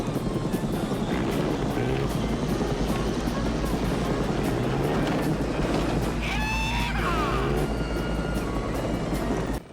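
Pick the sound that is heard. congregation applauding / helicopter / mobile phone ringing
helicopter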